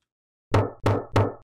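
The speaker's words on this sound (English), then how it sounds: "What you knocking on? Is it this door?" Three heavy, evenly spaced knocks land on a door in a horror video game, loud and close, with silence before them and no voices.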